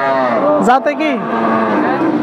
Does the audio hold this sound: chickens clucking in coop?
no